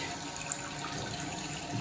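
Water streams steadily from a waterfall-style bathtub faucet, a continuous close hiss and splash of flow with no voices present.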